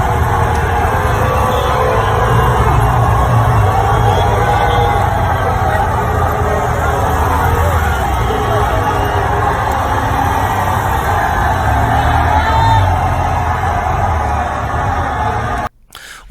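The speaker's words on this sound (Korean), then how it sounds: "팬들은 Whose house? Rams house? 라는 구호를 외치며 램스 선수들의 차량 행령을 열렬히 환호했습니다" Fans at the Los Angeles Rams Super Bowl victory parade make a dense, continuous roar of cheering and chanting, loud and sustained throughout before cutting off abruptly at the end.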